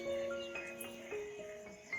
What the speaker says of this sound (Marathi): बेडकांचा आवाज येतो आहे